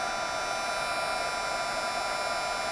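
Heat embossing tool blowing hot air to melt embossing powder, a steady, fairly quiet whooshing hum that runs unbroken throughout.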